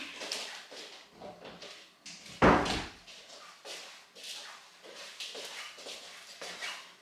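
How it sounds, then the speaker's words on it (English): A door is shut inside a house, giving a single solid, fairly loud thump midway through, with quieter rustling room noise before and after. "Let me just close this door."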